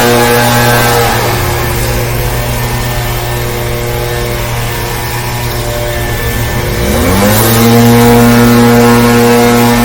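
A leaf blower drones steadily and loudly close by, its tone dipping around the middle and then rising again as it revs back up, with no talking over it.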